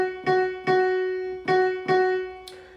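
A violin plays four separate notes of the same pitch, close and clear, each one decaying before the next, followed by a short click.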